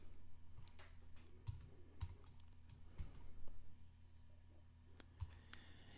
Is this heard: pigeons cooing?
no